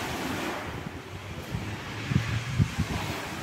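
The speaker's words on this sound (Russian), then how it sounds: "Сегодня ветра меньше, чем вчера вечером было." Steady wind blowing by the sea at Novy Afon, Abkhazia, mixed with the wash of surf, a continuous broad rush with low gusty buffeting on the microphone and no talk.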